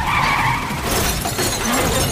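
Loud car crash with a skidding screech and a burst of shattering glass, a dense, harsh noise filling the whole moment with no voices.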